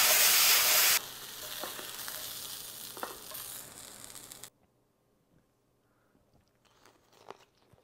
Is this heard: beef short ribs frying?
yes